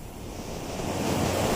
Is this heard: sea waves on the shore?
yes